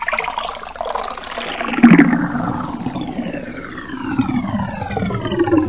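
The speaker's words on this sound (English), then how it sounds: "I hear someone running the water." Water runs and splashes from a tap in a cartoon, a continuous rushing flow with a louder gush near the middle and a rising whistling tone toward the end, with no voices.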